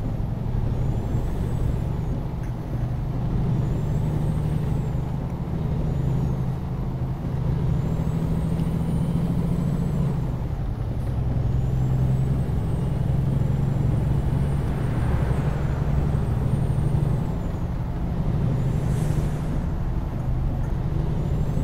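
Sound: truck engine and air brakes in American Truck Simulator video game

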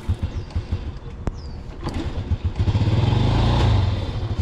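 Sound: Honda Biz C100 motorcycle engine cold starting with choke

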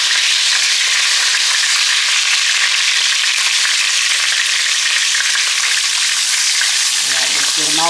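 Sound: food sizzling in frying pan

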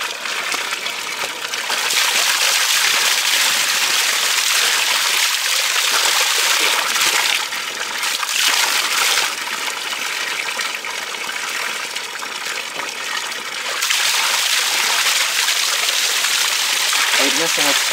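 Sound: water splashing while washing face

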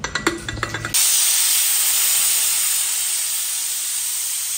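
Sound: pressure cooker hissing steam while cooking kichidi

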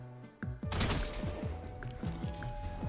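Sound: SMG gunfire in a video game

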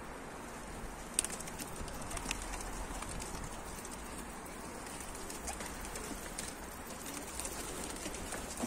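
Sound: pigeon flying and cooing

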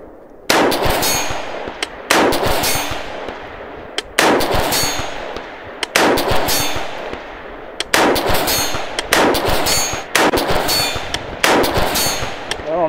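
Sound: rifle shots hitting steel targets at range

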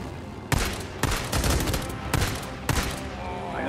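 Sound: machine gun fire in the video game Days Gone

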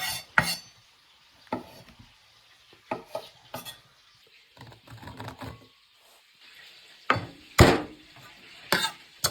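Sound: cutting mushrooms into large pieces

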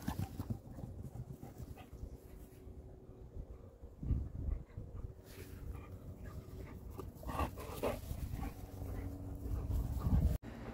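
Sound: dogs whimpering after a walk

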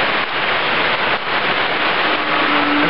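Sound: heavy rain

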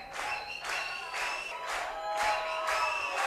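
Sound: audience clapping and cheering at a concert

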